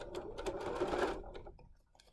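A sewing machine stitches the top edge of a pleated fabric mask with a wire in its casing, a quiet, close, steady whir that runs briefly, then slows and stops.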